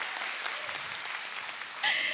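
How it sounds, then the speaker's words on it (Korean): Studio audience at a Korean amateur singing contest broadcast applauding steadily, a dense even patter of clapping that swells slightly louder near the end. "박수 좀 보내주세요"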